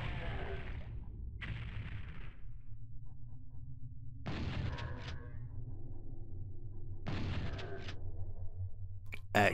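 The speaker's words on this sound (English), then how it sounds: "You gotta be careful of all those fireballs there." Fireballs and weapon blasts in Final Doom's Plutonia, a few separate booming bursts with rumbling tails against a low steady game hum, moderately loud.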